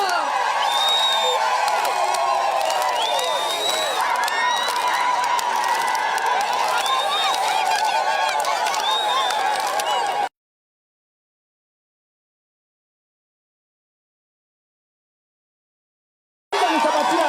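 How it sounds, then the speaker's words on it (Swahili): A large crowd claps and cheers loudly and steadily for about ten seconds, then the sound cuts off to silence before the applause briefly resumes. "Watu makofi ya juu."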